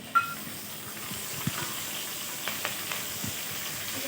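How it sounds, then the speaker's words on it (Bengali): Black mustard seeds and curry leaves fry in hot oil in a pan, giving a steady, close hiss of sizzling with a few soft stirring clicks and scrapes. "এর মধ্যে সব কিছু ভালোভাবে ভেজে নেব।"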